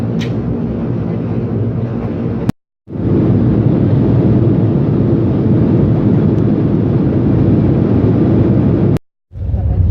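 Steady, loud broadband roar of an airliner cabin in flight, a constant engine and airflow drone that fills the clip, broken by two short near-silent gaps; no talk.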